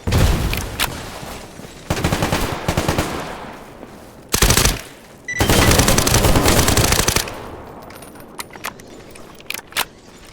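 Automatic gunfire in STALKER GAMMA, set around Pripyat, erupts loud and near in sustained rattling bursts, breaking into pauses and then a few scattered single shots toward the end.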